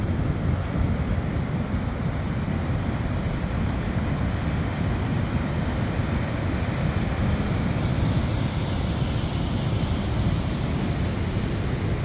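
Steady rush of the Humber River in North York along a jogging trail, a continuous broadband wash of moving water mixed with wind buffeting the microphone, unbroken and fairly loud throughout.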